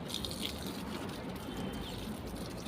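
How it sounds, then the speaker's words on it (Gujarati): Water runs steadily from a garden tap or hose onto plants in hot weather, a continuous broadband rush with faint dripping, fairly close and without talk. "જો પાણી ચાલુ છે."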